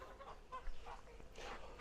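Farmyard fowl, chickens and ducks on a farm on a fine morning, give off a brief cluster of honks and clucks at moderate distance, faint and mixed with outdoor background noise.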